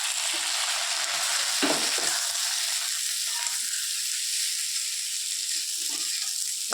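Potatoes and already fried eggplant sizzle loudly and steadily in a pan, a dense close hiss with a brief stir or splash early on and no voices.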